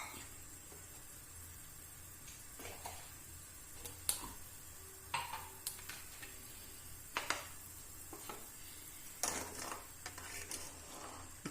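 Carrots and beans cooking in a pan for Kerala-style upma, with a soft steady sizzle and simmer broken by scattered clicks and taps of a utensil against the pan.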